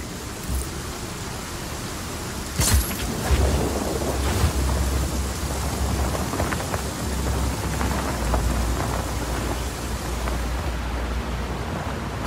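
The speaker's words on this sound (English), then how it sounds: "Storm's rolling in." Heavy storm rain pours steadily in the video game Just Cause 4, with thunder cracking and rumbling over it; one sharp crack stands out early, and no voices are heard.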